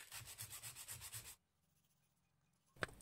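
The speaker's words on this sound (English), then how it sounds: "Now I'm sanding the limb with 40 grit sandpaper for better gluing surface." Rhythmic rasping strokes of coarse 40-grit sandpaper on a wooden bow limb, sanded by hand, about a dozen quick back-and-forth passes, then near silence and a single sharp knock at the end.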